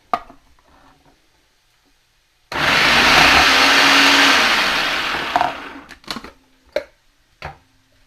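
A loud, steady food processor whir with rough chopping texture as it slices potatoes lasts a few seconds, then cuts off, followed by a handful of sharp clunks and taps.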